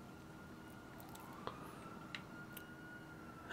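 An emergency vehicle siren wails faintly in Grand Theft Auto V, a distant steady tone drifting slightly in pitch beneath a quiet game background.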